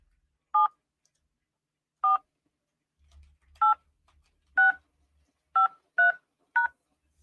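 Telephone keypad tones enter an 8-digit card PIN on an automated balance line, seven short beeping DTMF presses spaced irregularly, loud and clear with near-silence between them.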